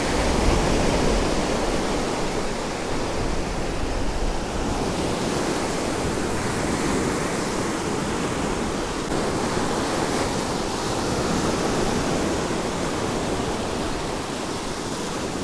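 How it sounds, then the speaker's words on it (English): Sea waves breaking steadily on a beach below a sea-view villa in Istanbul, a continuous broad wash of surf with gentle swells and light wind, heard alone without voices. "Take a minute to listen to the sound of the waves."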